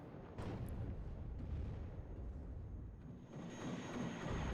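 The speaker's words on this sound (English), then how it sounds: "Artillery flying in from the rear" Artillery fire in the real-time strategy game WARNO, a dense rolling rumble of distant booms and blasts that swells and dips, with a brief high whine near the start.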